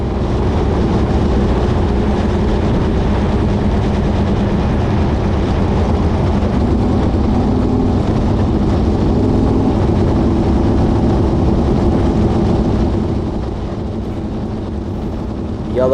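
Alcohol-fuelled race car engine at Indianapolis Raceway Park, running hot while heading to pit road. It gives a loud, continuous in-car drone that holds steady for most of the stretch, then drops slightly near the end.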